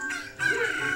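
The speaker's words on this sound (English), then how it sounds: "Whip out the chicken!" A chicken from the Zelda: Ocarina of Time Master Quest video game gives a short, loud synthesized cluck and crow of about one second, with a bright, steady tone and no voices over it.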